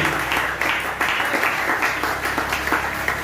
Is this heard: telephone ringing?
no